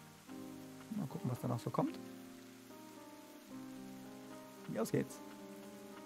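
Rain in the video game Ender Lilies: a soft, steady patter of rainfall runs throughout at low level, while someone speaks German in two short bursts over it.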